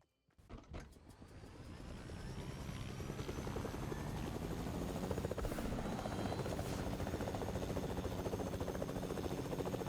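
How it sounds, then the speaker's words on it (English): A video game helicopter whirs continuously with a fast, steady rotor chop that swells up after a brief start and holds at a constant loud level. "Oh, I gotta take your helicopter to your base."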